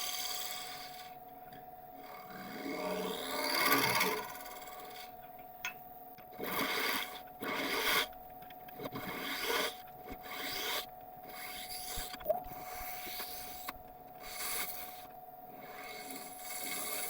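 Resin spins at about 1100 RPM on a wood lathe while a Record Power detail carbide tool cuts it in repeated scraping passes. A steady motor hum runs underneath, and sharp ticks break in now and then.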